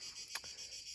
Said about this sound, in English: Hope you can hear me because the cicadas are very loud.